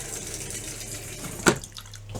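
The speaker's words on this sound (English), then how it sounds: "I'm going to flush it until it turns pink." An RV toilet in a travel trailer, filled with pink antifreeze during winterizing, flushes in one brief, sharp splash. Quiet trickling runs before it, and the sound fades quickly after.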